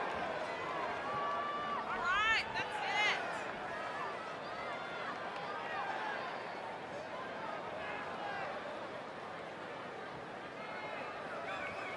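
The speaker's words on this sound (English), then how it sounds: "this stellar crowd reaction they're receiving here" A WWE 2K20 wrestling arena crowd roars in a continuous, dense wash of cheering and babble, with a few whistles and shouts standing out near the start.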